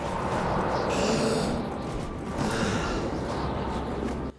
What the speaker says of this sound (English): When there's only 1 minute left on the filter, Artyom's breathing becomes labored